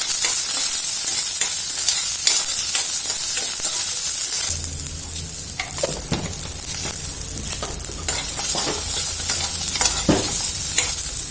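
Small onions and green chillies fry in a pan with coriander and curry leaves, a loud continuous sizzle with scraping stirring strokes, alone without voices.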